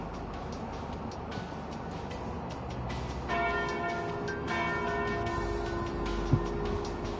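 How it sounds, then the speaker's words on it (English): The noon bell tolls in the game Trails through Daybreak, a sustained ringing chime entering partway through over steady ambient town noise, resonant and lingering without voices. "Ah, and there's the noon bell"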